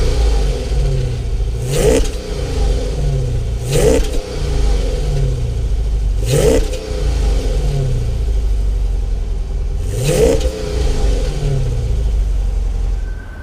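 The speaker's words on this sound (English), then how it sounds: "these exhausts are really loud" A 2014 Chrysler 300 SRT revs through its quad exhaust, four loud, sharp throttle blips spaced a few seconds apart over a steady deep idle rumble, close by and with no talk.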